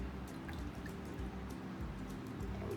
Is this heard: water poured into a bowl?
yes